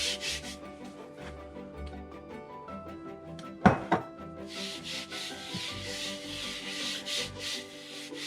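A rolling pin works floured pastry dough for Christmas mince pies, making soft repeated rubbing and scraping strokes up close, with a pair of sharper knocks partway through and a brighter, airier rubbing afterward.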